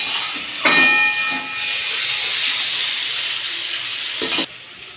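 Masala spices fry in oil for an egg curry, and a splash of water sets off a loud, close burst of hissing steam and sizzling that holds steady before cutting off abruptly.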